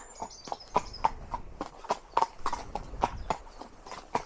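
Horse hooves clip-clop in a steady walking rhythm during a ride, close and fairly clear, with a faint voice or two in the background and no other sounds standing out.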